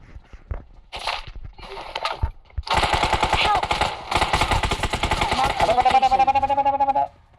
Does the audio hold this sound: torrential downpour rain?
no